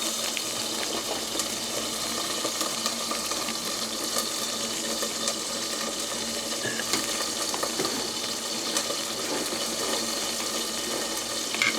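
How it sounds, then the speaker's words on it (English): Cooked spaghetti being drained, its hot pasta water pouring and splashing steadily into a kitchen sink, a continuous close rushing hiss that lasts throughout with no voices. "And that's just about al dente, so I'm going to drain that."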